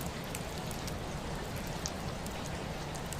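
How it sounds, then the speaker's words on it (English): Steady rain falls outside a Victorian tearoom, a soft, even hiss of drops with faint scattered taps, continuous and gentle throughout. "the rain is falling"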